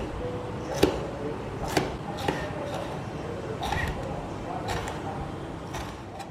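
Green and red bell peppers chopped into pieces on a cutting board, a series of irregular knife thuds at moderate volume under a constant background hum.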